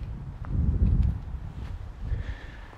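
Wind buffets the microphone in low rumbling gusts, swelling and easing, with faint rustling in the background.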